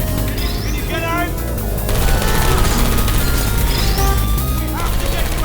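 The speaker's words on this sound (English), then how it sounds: "I heard gunfire!" Gunfire in the Portal 2 video game, a dense burst of crashing shots and impacts over a chaotic game soundtrack, loud and close, with a few game sound effects sweeping through.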